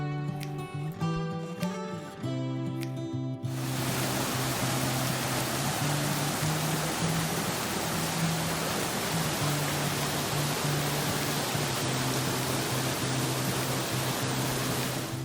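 A waterfall at the dam near Florence Marina roars as a steady, dense rush of water that stays loud and constant after a brief stretch of other sound at the start.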